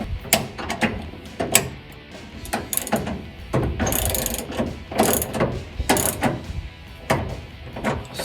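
A ratchet tightens a body lift bolt on a 2009-2018 RAM 1500, with repeated loud, close clicking strokes in uneven bursts that run throughout.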